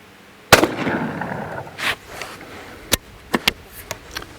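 The left barrel of an antique English shotgun goes off in one loud, close boom, followed by a fading outdoor echo and a few scattered clicks and knocks afterward.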